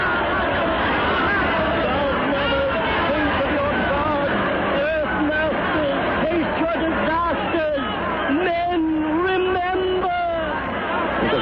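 Crowd of people murmuring as a panicked mob in an old radio drama, a dense babble of many voices that stays constant throughout while a narrator's voice speaks clearly over it.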